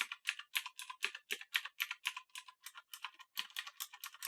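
Rapid, crisp clicking of a Razer Orbweaver gaming keypad with loud clicky MX Blue–equivalent mechanical switches, a steady flurry of close keystrokes with no voices.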